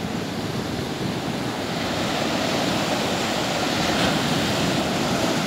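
Surf rolls and crashes as a wave is ridden, a steady, loud wash of breaking water with wind noise over the microphone throughout.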